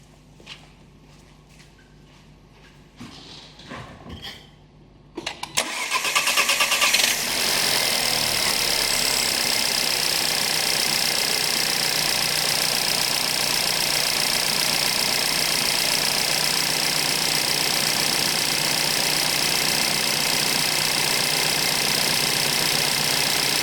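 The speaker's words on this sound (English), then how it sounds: "I'm gonna start the car up and start the measurement" VW FSI/TSI car engine with a long crank on the first start of the day: several seconds of footsteps and clicks, a drawn-out cranking whir, then the engine catches and settles into a loud steady idle.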